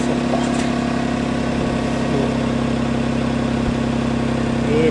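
A motorcycle engine fitted with a JMCA muffler idles steadily during a sound level test, a constant low throbbing hum, close and even throughout, with no talking.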